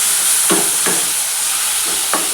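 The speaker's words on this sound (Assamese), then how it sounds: "ভালদৰে ভাজি ল'ম" Ginger, garlic and cumin spices frying in a pan, a steady sizzle with a few stirring scrapes at intervals, close and continuous with no talk.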